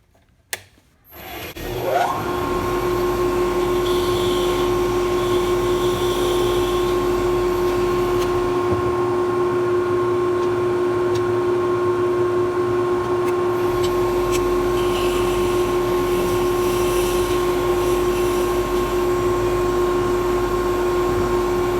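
A lathe spins steadily with a constant high whine and broad rushing hiss as a pen blank is faced flat, starting up after a short quiet moment and a knock, then running continuously with no talking.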